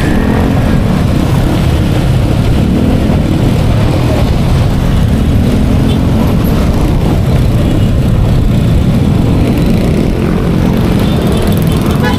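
Heavy weekday-morning road traffic crowded with motorcycles in Las Piñas makes a loud, continuous engine rumble and drone close by, steady throughout with no talking.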